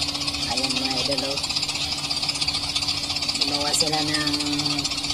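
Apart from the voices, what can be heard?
homemade airplane powered by grass cutter engine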